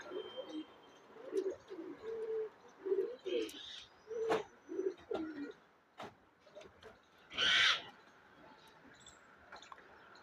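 A breeding pair of Pure Mental bloodline pigeons coo in a series of short, low, rhythmic phrases close by. There are a few sharp knocks and a brief burst of hiss in the quiet background.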